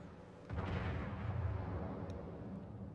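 A heavy battleship salvo booms in World of Warships, a deep explosive blast that swells suddenly and rolls on with a long rumbling decay, with a faint crack near the end.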